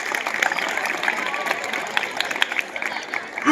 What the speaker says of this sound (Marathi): साठी टाळ्या झाल्याच पाहिजे।